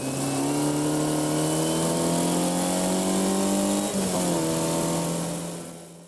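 A Formula Ford race car at Snetterton accelerates hard through a corner, its engine loud and close in a steady rising drone that dips briefly mid-way and fades slightly toward the end.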